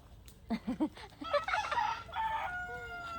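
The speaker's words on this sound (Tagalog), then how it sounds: "Let's go feed the chicken." Chickens cluck in short bursts close by, followed by a rooster's crow rising and trailing off, fairly faint in a quiet rural yard in the Philippines.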